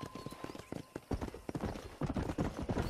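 Galloping horse hooves in the video game Red Dead Redemption, a steady rapid clip-clop close up and loud through the whole stretch, with faint game ambience underneath.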